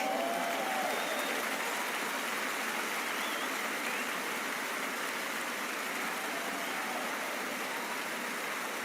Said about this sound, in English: Give her an enormous applause.